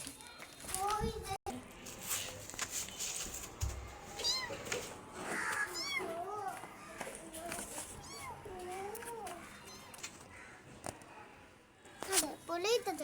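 A cat meows several times in rising and falling calls, close by, mixed with children's chatter and other household voices around it.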